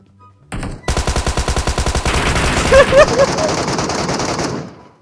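Gunfire in the PUBG Metro Royale shooter: a single opening shot, then a rapid, evenly spaced automatic burst that blends into a loud, sustained barrage before cutting off.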